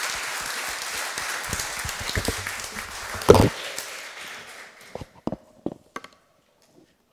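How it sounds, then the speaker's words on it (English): Applause from a tech meetup audience for a speaker, a full burst of clapping that thins out and trails off into a few scattered claps. "Let's have a round of applause for Jeff."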